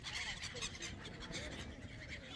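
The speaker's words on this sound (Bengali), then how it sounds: "জায়গাটা পাখির কলকাকলিতে একবারে মুখরিত" A flock of birds at Old Doha Port in Qatar, a busy outdoor waterfront, gives a dense, honking, clamorous chorus, close and continuous throughout.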